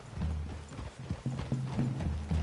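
Horses walk with steady clip-clopping hooves in Red Dead Redemption II, the low thudding steps carrying over a faint ambient rumble, with no voices present.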